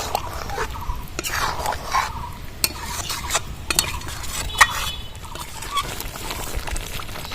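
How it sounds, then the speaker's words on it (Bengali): Raw mango pickle with red chilli powder bubbling and being stirred in a pan, with soft scraping strokes and sharp clicks of a spoon against the pan over a steady low simmer. "এবার আমি পাঁচ মিনিট ভালো করে ফুটিয়ে নেবো"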